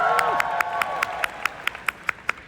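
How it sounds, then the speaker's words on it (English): Applause at a WFG business convention in Winnipeg, a soft crowd wash with a run of sharp, evenly spaced single claps marking time, faint and distant, with a tonal hum fading early. "So give yourself a round of applause."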